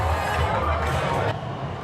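Crowd at the Vancouver gay pride parade: a dense, steady outdoor hubbub of many voices and street noise, heard close and fairly loud throughout, with no single voice standing out.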